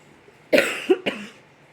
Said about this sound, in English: I have a cold, so you may hear the occasional cough.